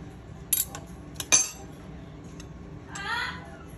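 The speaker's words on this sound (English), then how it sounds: "Are you doing my dishes?" A parrot rattles dishes and cutlery, giving a few quick clinks and scrapes of metal on crockery close by, then a softer clatter, over a quiet room.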